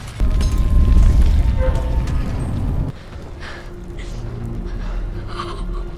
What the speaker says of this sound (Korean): 총을 버리고 기차가 지나가는데 엄청난 폭발과 함께